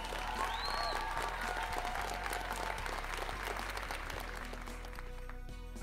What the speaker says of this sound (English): Who are these people who keep clapping